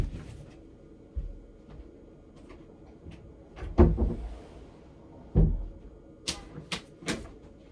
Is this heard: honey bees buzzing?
no